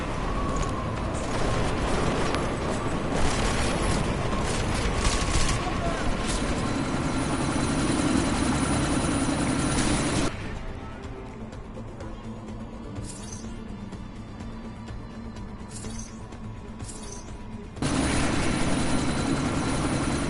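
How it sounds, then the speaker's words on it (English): Helicopter in the video game Deus Ex hovering through a sandstorm, a loud steady rotor and engine roar that drops to a quieter rumble midway, then swells back up near the end. "you need to disable that chopper"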